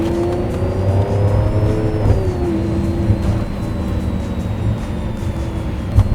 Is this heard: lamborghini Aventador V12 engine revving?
yes